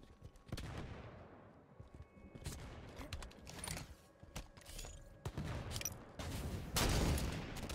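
Rapid gunfire in a Halo 5 free-for-all match on the Coliseum map: bursts of shots and sharp cracks come in clusters and grow denser and louder toward the end, with no talking.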